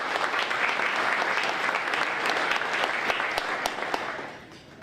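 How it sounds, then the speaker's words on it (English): Applause from a museum audience thanking the servers, cooks and staff, a dense steady clapping that carries evenly for most of the stretch before tapering off at the end. "So let's give them all a round of applause."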